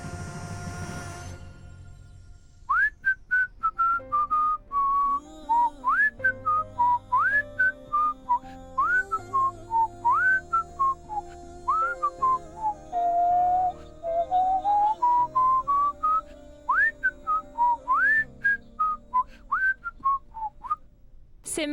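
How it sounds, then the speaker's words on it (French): A man whistles a slow romantic melody alone, clear and close, in phrases with rising slides and brief pauses over soft background music, after a short noisy opening. "C'est étrange d'entendre mon frère siffler une chanson aussi romantique."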